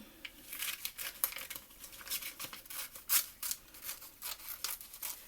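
Scissors snipping through paper strips for homemade paper beads, a series of close, crisp cuts in an uneven rhythm with soft paper rustles between them, no talking.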